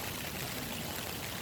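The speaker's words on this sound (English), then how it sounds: "There's some more rain gutter. That's taking the water off two roofs," Rainwater off two roofs, a patio roof among them, pours steadily from a gutter in a continuous, even rush that stays at the same level throughout.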